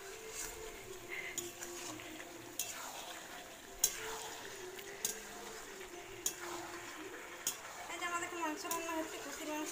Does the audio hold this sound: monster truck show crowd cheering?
no